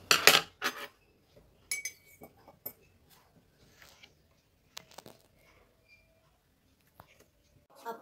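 A few light clinks of a spoon put into a glass of water, with soft handling noises and quiet gaps in between.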